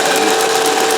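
A Singer 411G domestic sewing machine with a roller foot runs at fast speed through rubber-backed fabric, making a loud, continuous whirring rattle with a rapid, even mechanical pulse.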